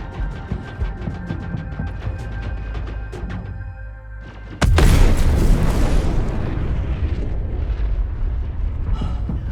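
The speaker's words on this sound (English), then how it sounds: "I'd been hearing sounds for a few minutes that almost sounded like gunfire and explosions" Space battle combat in Star Citizen carries as gunfire: rapid sharp cracks and pops over a low rumble, then a sudden heavy explosion bursts and rolls on as a loud sustained roar.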